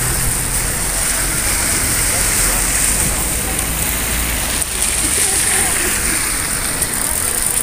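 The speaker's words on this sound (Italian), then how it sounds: "sta tornando a piovere" Rain sets in again over Corralejo on Fuerteventura, a loud, constant rushing hiss of falling water that stays even throughout, with no clear voices over it.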